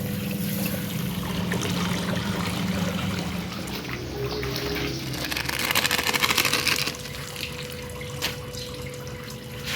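Soapy detergent wash water draining out of a washing machine after washing clothes and a blanket, a continuous splashing gush that swells louder midway and then tapers to trickles and drips.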